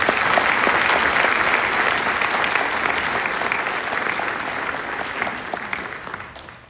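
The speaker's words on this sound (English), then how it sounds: "I would like to take a moment and give Chloe a round of applause as a thank you for her service" Loud, sustained applause for Chloe from a crowd at a graduate hooding ceremony, dense clapping close and full for several seconds before tapering off at the end.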